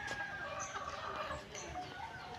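Chickens scratching and clucking on a farm, a close steady cluster of overlapping clucks and murmurs over a low rustling background, with no talk.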